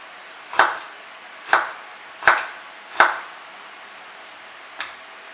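Knife cutting through stacked vegetable slices into julienne, four evenly spaced crisp chops on a board followed by a lighter fifth after a pause.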